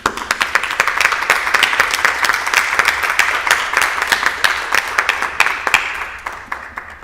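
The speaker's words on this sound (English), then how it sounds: "I want to applaud each and every one of you" Applause for staff and teachers fills a school board meeting room, a dense, steady clapping from a crowd that holds strong throughout and thins slightly near the end.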